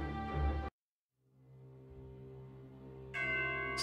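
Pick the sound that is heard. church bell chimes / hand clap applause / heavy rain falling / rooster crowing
church bell chimes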